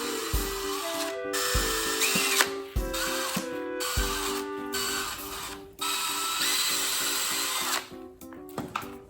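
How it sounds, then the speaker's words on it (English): A power drill bores holes for rustic DIY place card holders. It runs in several quick, loud bursts separated by short pauses, with a whirring motor and clicking mechanism close up, and no talking. "Let's drill our holes."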